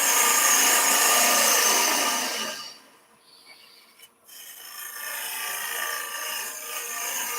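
A wooden piece spins on a lathe as a gouge cuts a rough, rasping shaving sound for about three seconds, dies away briefly, then the cut resumes more softly at close range with no voices.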